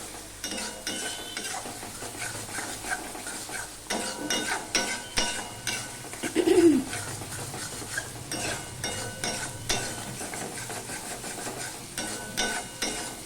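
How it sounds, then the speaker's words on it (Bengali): Fish curry masala with a half spoon of sugar being sautéed in a pan, a steady low sizzle under repeated scraping and stirring of a utensil against the metal, with one louder clatter midway. "দিয়ে আবার একটু কষিয়ে নিলাম"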